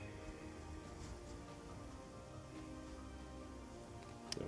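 Steady, faint rainfall hisses evenly throughout, with soft scattered drops and no voices.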